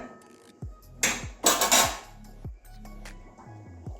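A metal lid comes off a pot of boiled moong dal in a home kitchen, with a few sharp clinks and clanks of metal on metal and a brief rattling scrape, close and fairly loud.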